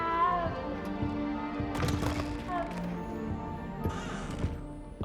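A cat meows in the video game Hogwarts Legacy, with a couple of soft cries under a steady bed of game ambience and music while a voice speaks over it.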